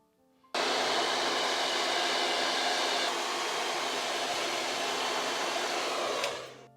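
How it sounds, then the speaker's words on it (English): A hair dryer on its cold setting blows on hair, a loud, steady broadband whoosh that starts abruptly and runs continuously for several seconds before tapering off at the end. "have your hairdryer on cold as not to burn the hair when you're doing this"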